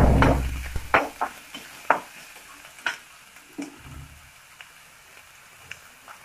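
Onions fry in a small pan, sizzling steadily and interrupted by several sharp knocks and rattles as the pan is shaken and tossed, louder at first and then easing off.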